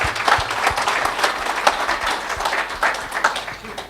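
Symposium audience applauding panelists with a dense, even clatter of many hands, moderately loud and sustained for a few seconds without speech.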